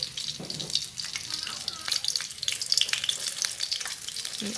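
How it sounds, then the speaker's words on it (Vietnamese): Seitan pieces fry in hot oil in a pan with a busy, crackling sizzle and scattered pops, close and continuous, with occasional stirring scrapes. "Mình chiên nó vàng như thế này là được rồi nè các bạn"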